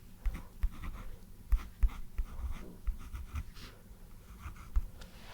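A pen scratches and taps on notebook paper as chess moves are written down, close and soft, with small irregular strokes and low thumps.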